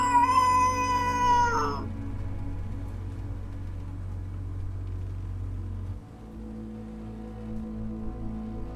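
A black cat lets out one loud, drawn-out meow close by, after which a low steady rumble carries on alone.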